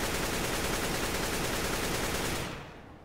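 A CS:GO bot fires a gun in a loud, continuous automatic burst of dense, rapid shots that runs steadily for over two seconds before cutting off and trailing away.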